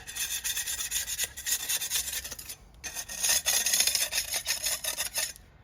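A trowel scrapes sand off the sides of a brick paver in a patio, giving repeated close, gritty rasping strokes with a short pause midway; no talking.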